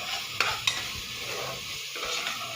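Chopped onions sizzle gently in a pan over a low flame for veg pulao, with a steady soft frying hiss and two sharp spoon scrapes against the pan early on.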